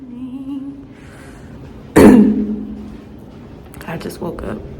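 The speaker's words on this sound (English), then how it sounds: "I just woke up with a coughing fit" A single sharp, loud cough bursts out in a quiet room right after someone wakes with a coughing fit, followed by a brief throat sound and some soft movement.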